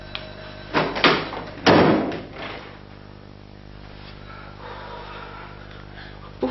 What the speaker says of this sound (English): I'm going to be locking these doors.